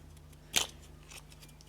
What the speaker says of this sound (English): I'm going to real quick cut this plastic grip